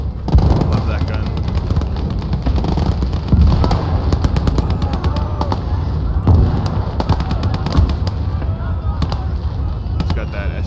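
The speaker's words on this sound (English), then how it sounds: "Taking shots with the 15cm gun." 15cm gun firing in the video game Gates of Hell Ostfront, with heavy booming shots and crackling battle noise in a continuous loud mix, while someone talks over the combat.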